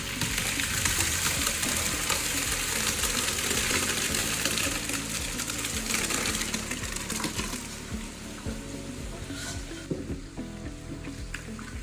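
Onions frying in vegetable oil give a continuous dense sizzle with crackling pops and occasional stirring clatter, steady and close throughout.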